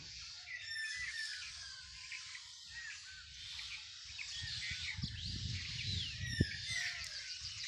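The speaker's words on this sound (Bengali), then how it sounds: "পাখির কিচিরমিচির" Many birds chirp and tweet in village trees in the distance, with crows cawing among them over a low background rumble, plus one sharp knock near the end.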